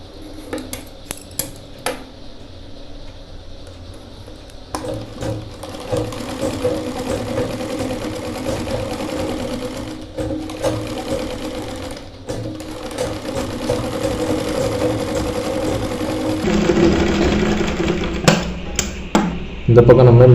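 A sewing machine stitches a curved belt seam in steady running bursts, its mechanical whir and clatter fairly close and continuous, with a few quieter handling pauses and a louder stretch near the end.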